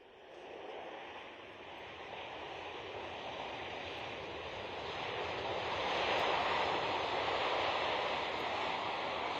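A C-17 military transport aircraft lands at an air show with its thrust reversers deployed: a continuous, broad, roaring jet rush that swells louder toward the middle, heard from a distance with no talking.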